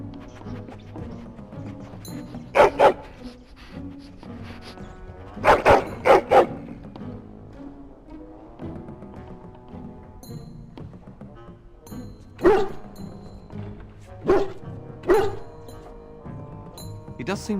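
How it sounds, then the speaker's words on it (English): A dog barks in the video game Dragon Age, sharp loud barks in several clusters spread through the scene, with character dialogue heard between and around them. "Get the dog out and keep him away,"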